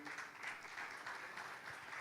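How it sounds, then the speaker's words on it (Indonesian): An audience applauds the young generation of Solo at an investment forum, a brief, soft, continuous patter of clapping heard without speech. "tepuk tangan buat generasi muda Solo"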